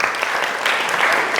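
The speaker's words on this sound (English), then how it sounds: "round of applause for Tina, very nice" A networking event audience gives a round of applause for Tina, a close, dense and steady burst of many hands clapping at once, without talk over it.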